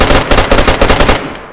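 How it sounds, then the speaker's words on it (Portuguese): Rapid automatic gunfire in DayZ, close and loud, dense bursts firing continuously for over a second before cutting off. "Quem tá atirando?"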